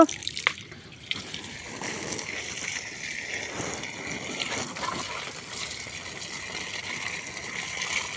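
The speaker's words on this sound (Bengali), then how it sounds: "গাছগুলোতে পাইপ দিয়ে পানি দেওয়া শুরু করব" Water runs from a garden hose onto plants at a repaired pipe joint, a steady broadband splashing and trickling that stays fairly constant after an initial thump, with no talk.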